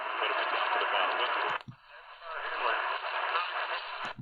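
Steady hissy static from a Radio Shack AM/FM shortwave radio on medium wave in the evening, carrying a faint birdie tone, briefly cut off once with a click, then resuming at an even level.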